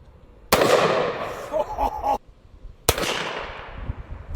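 Two suppressed subsonic .50 AE handgun shots ring out a couple of seconds apart, each a sharp, loud crack with a fading tail, and a brief voice is heard between them.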